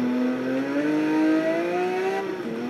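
A car in the racing video game Test Drive Unlimited 2 decelerating hard from 200 mph, its engine tone whining and sliding steadily downward for about two seconds before cutting off abruptly, loud and alone.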